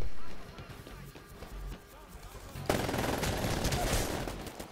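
Automatic weapon fire from the Titanfall video game breaks out as a dense, loud, continuous rattle of rapid shots, preceded by quieter game ambience and scattered effects.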